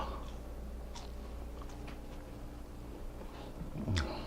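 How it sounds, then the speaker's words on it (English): Quiet, close-up crunchy bites and chewing of crispy French fries, a few crisp crackles spread out over several seconds. "crispy, crunchy on the outside, fluffy on the inside."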